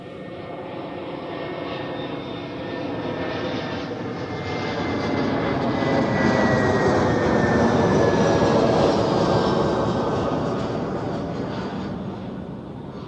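A Swiss airliner on ILS approach to runway 14 at Zurich passes overhead, its engine roar building from a moderate drone to a loud peak and then easing slightly, with a faint whine sliding across the sustained rumble.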